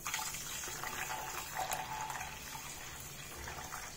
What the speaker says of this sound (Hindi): तो चावल हम इसी तरह डाल के बस इसमें पानी डाल देंगे ऊपर से